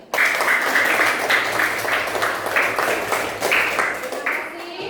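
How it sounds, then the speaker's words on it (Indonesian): Applause for the third student group in a classroom, steady rapid clapping from many hands lasting the whole stretch, fairly loud and close, with some voices underneath. "Tepuk tangan untuk kelompok 3"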